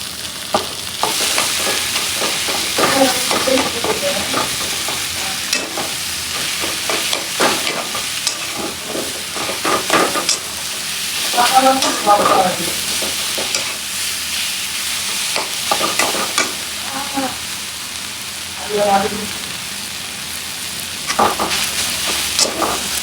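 Leafy greens (shak) sizzling in a hot pan, a steady crackling fry broken by repeated scraping and clattering strokes of stirring, close and fairly loud, with no talk.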